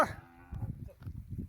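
A cow lets out a short moo at the start, followed by low, muffled sounds from thirsty grazing cows in a quiet outdoor setting near a pond.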